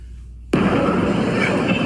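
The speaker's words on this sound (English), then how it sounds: "Here are several explosions heard in Caracas over Venezuela." Explosions in Caracas, Venezuela: a sudden loud blast hits, followed by a sustained rumbling roar that continues without letting up.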